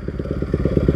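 Bajaj Pulsar NS200 motorcycle fitted with an Akrapovic exhaust gives a close, throaty burst of rapid, evenly spaced exhaust pulses, loud and alone for about a second.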